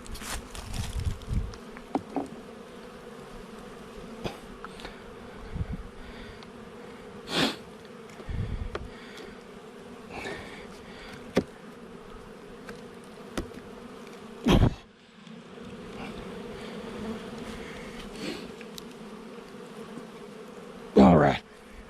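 Honeybees buzz steadily around the entrance of a Long Langstroth hive during a robbing frenzy, a continuous close droning hum with individual bees swelling louder as they fly past.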